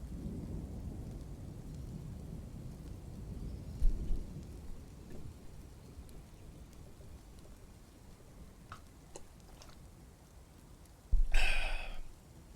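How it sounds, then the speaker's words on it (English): Ambient rain hisses steadily in the Dwarf Fortress video game, with a low rumble of distant thunder partway through and a sharper, louder thunderclap near the end. "I love the ambient rain sound."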